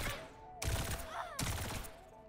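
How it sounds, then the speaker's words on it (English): Juno's burst gun in Overwatch 2 fires in two separate sharp volleys, each a quick cluster of rapid shots, with electronic game tones and a faint whooshing effect between them. "A burst gun."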